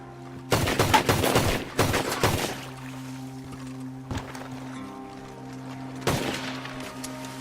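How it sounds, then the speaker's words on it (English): Gunshots in Red Dead Redemption 2: a quick cluster of loud, sharp shots, then a single crack a moment later and another near the end, over a steady low ambient hum. "I'ma shoot you in the rib."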